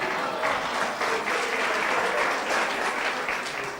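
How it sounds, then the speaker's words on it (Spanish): Sustained, loud applause from an audience at a technology companies event on smart cities, dense clapping holding steady throughout before easing slightly at the end. "Un aplauso para ustedes."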